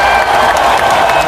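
Applause from a school celebration assembly, dense and steady throughout at close range, with a faint murmur of voices mixed in.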